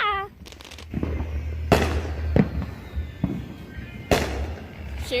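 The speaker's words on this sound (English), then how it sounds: "Fireworks." Fourth of July 2020 fireworks explode in several sharp, loud bursts, with crackling tails, spaced irregularly over a low background rumble.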